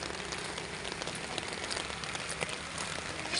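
Steady rain falling and pattering on surfaces, a dense continuous hiss with scattered drop taps, even and unbroken throughout, with no voices.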